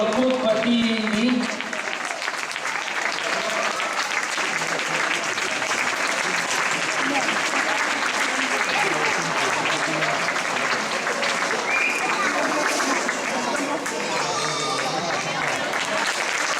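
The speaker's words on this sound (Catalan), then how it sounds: "i un fort aplaudiment també pel Club Patí Indi." Sustained audience applause honouring a roller skating club after a skating exhibition in Sant Pere de Torelló, steady dense clapping filling the whole stretch with some crowd voices mixed in.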